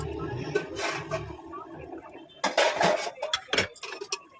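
Metal clanks and clinks near a pot of mutton curry as its lid is set down, a few sharp knocks in two bursts with quiet between them.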